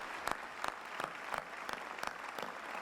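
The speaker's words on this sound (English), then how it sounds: "let's give them a round of applause" Audience applause at an NYPD police graduation ceremony, a moderate crowd clapping steadily with sharp rhythmic claps standing out, somewhat distant and without voices.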